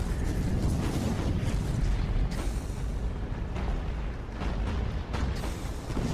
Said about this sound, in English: Look at all those torpedoes exploding on which side.